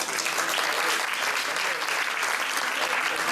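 A studio audience claps continuously in a French stage show, the dense, fairly loud applause staying level throughout, with faint voices mixed in underneath.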